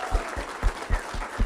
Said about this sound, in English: You got a cheering audience, right?